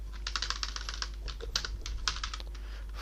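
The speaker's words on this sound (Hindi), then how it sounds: "नीचे आ जाते हैं और कोड टाइप करते हैं यहाँ से" Fast, light clicking of keys on a computer keyboard while code is entered, a steady patter of quiet taps close to the microphone over a low hum.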